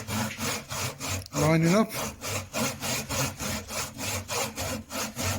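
A hand saw cuts through mahogany clamped in a vise, its steady back-and-forth strokes close and even, with a short voice breaking in partway through.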